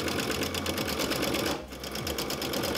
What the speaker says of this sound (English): Sewing backwards and forwards and working all the way around the flower.